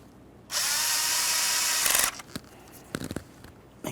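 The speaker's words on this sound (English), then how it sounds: "we'll continue on to tightening that 10mm headed bolt" A power tool whirs in one loud, continuous burst for about a second and a half as it tightens a 10mm bolt on a 2.5L Nissan Altima engine, followed by a few short clicks and taps.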